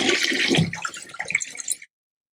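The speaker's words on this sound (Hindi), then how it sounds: "फ्लश की आवाज आ रही है" A toilet flushing, a short rushing gush of water that drains away over about two seconds before cutting to silence, fairly close and alone.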